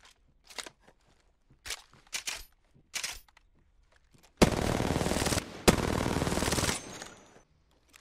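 Two R99 submachine guns fire in Apex Legends: several short bursts early on, then two long sustained streams of very rapid, loud automatic gunfire separated by a brief gap.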